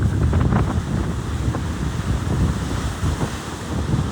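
Steady roar of sea waves breaking on the shore in Colombo, Sri Lanka, with gusty wind buffeting the microphone throughout; no voices.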